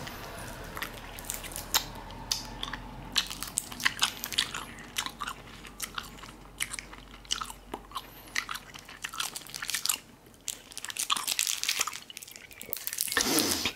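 Sour strawberry candy is chewed close to the mic, with repeated crunches, bites and wet squishy smacks in an uneven rhythm, and no voices over it.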